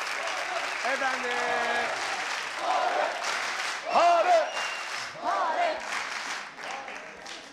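A studio audience applauds a band on a Turkish TV show with a continuous wash of clapping, while people talk and laugh loudly over it.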